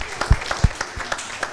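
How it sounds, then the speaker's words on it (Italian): Applause for young cyclists on an Italian cycling show: scattered, uneven claps from a small group, with a few sharp louder hits in a brief burst. "Fatevi un applauso,"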